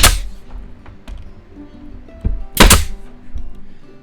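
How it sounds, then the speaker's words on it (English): A stapler drives 1-inch staples into the plywood bottom of a drawer, giving two sharp close shots about two and a half seconds apart, with softer thuds and workshop handling noise between them. "I'm just gonna use 1-inch staples to staple this into place."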